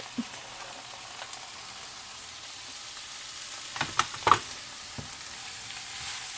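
Finely chopped vegetables with peas, cabbage and carrot fry for a veg burger filling, a soft, steady sizzle with a few light utensil clinks near the middle and no talking.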